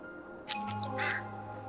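A crow in the video game Cloud Gardens gives a short cawing call, fairly close and clear over a quiet ambient background, lasting about a second.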